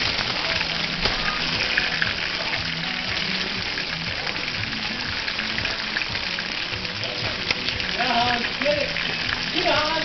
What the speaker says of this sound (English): we need the spatula to flip them